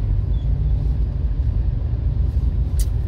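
Low, steady rumble of car traffic in a traffic jam, heard from inside a vehicle as a continuous deep drone with no talking.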